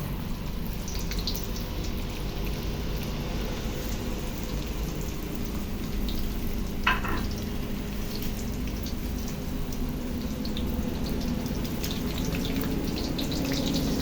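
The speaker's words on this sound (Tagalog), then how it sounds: "So, let's fry now." Banana turon, wrapped banana slices, frying in hot oil, giving a steady, even sizzle and crackle throughout, with one brief sharper pop midway and no talking.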